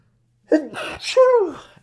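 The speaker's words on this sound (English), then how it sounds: "And then I got to sneeze." A single sharp sneeze bursts out after a brief silence, close and loud, ending in a trailing vocal tone.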